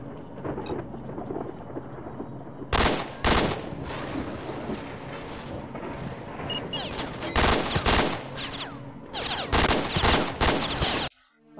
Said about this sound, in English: Yeah, they're definitely shooting the duty guy.